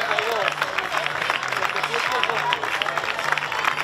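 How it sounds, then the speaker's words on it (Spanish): Spectators clap steadily for runners crossing the finish of a youth boys' popular road race on the coast at Ajo. The applause is moderately distant and continuous, heard beneath an announcer's voice and crowd babble. "Aplausos para ellos también."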